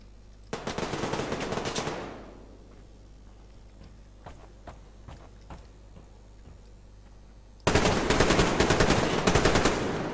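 Two loud bursts of rapid machine-gun fire from the KM in the Survarium shooter game, one early and one at the end, separated by scattered single shots and ticking sounds.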